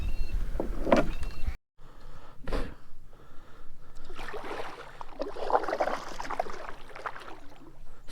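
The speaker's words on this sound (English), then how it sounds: "we're just crashing into the willows here" A kayak on the Murray River pushes into overhanging willow branches, giving off bursts of rustling, scraping and brushing. Louder thumps come near the start, then dense leafy crackling builds and goes on close up.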